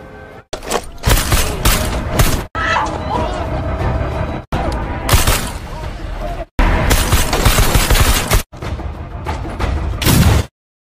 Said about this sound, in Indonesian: sehingga baku tembak pun terjadi